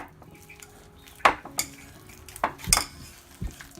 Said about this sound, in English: I'm going to mash these by hand instead of in the mixer.